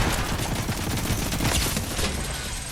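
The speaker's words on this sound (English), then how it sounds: "Wow, that's some horrible shooting." Dense, continuous automatic gunfire from the Fortnite video game, a loud unbroken burst of rapid shots filling the whole stretch with no talking.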